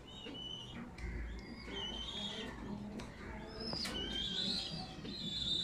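Pigeons in a home loft, including a white grizzle pair with a hen sitting on eggs, coo quietly in the background alongside faint chirps and a brief flutter of wings.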